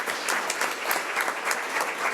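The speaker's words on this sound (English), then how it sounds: "Let's give her an applause anyway." Brief round of audience applause at a school board of education meeting, moderately loud and even, with individual claps rippling through a fairly small crowd.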